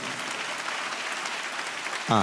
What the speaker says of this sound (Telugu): చప్పట్లు కొడుతూ ప్రభుకి స్తోత్రాలు చెప్దా